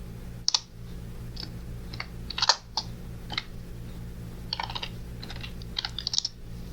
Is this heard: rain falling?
no